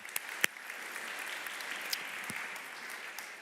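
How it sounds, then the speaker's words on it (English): Soft, distant applause from a conference audience at BETD 2022, a thin, even patter of many hands with a few sharper individual claps standing out near the start. "And let's give them a warm round of applause."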